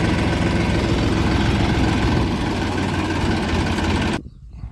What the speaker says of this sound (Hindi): ये देखा अनुज भाई का भी ट्रैक्टर वहां से चलने वाला है।